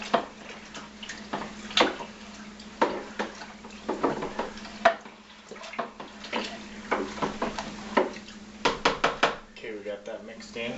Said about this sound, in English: We'll stir that up, mix that in real good.